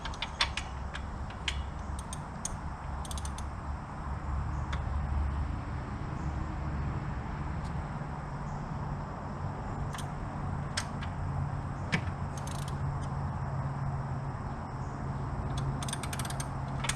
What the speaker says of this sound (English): Get it loose with the socket